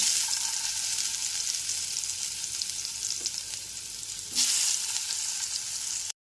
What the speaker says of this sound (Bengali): একটা বড় সাইজের আলুকে ডুমো ডুমো করে কেটে নিয়েছি লবণ হলুদ দিয়েও মাখিয়ে নিয়েছি এবার তেলে ভেজে নেব